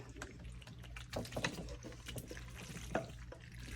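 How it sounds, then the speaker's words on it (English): A thick Spanish mac and cheese mixture is poured and scraped into a baking dish, giving soft wet glugs and spoon scrapes at close range with a few louder splats, no talking. "take your baking dish and pour this all inside here"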